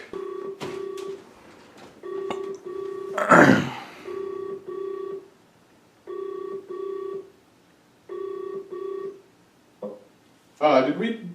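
Repeated electronic phone tones sound while calling back, with regular beeping bursts roughly every two seconds and short louder noisy interruptions between them.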